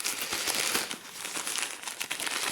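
Plastic sachet of aquarium filter media being torn open and crinkled right at hand, continuous close rustling for a few seconds.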